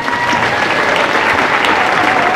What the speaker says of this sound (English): Can we have a round of applause for Sydney?